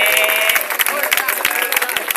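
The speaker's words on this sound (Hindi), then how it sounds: "मुस्लिम रशीद हबीब साहब के लिए बहुत सारी तालियां होनी चाहिए" Audience applause at a school award distribution ceremony, dense steady clapping from many hands throughout, fairly loud and close, with a voice faintly mixed in.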